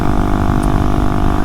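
KTM motorcycle engine with a vibration fault, running at a steady, loud drone with a low rumble and no breaks or talk.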